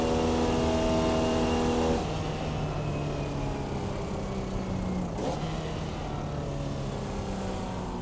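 A Formula Vee race car engine in the iRacing video game, a loud, buzzing drone close by that drops sharply in pitch at a gear change, then holds steady with a brief rasp midway.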